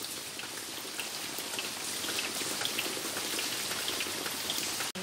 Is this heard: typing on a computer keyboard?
no